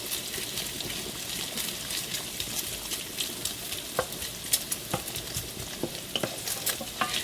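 Bacon for spaghetti carbonara frying in a pan, a steady crackling sizzle broken by sharp pops and the scrape of stirring, close and continuous with no talking.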